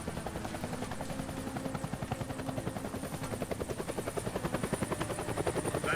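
A helicopter in the Deadlight video game thumps steadily with fast, regular rotor chop and a constant engine whine, loud and close throughout with no talking.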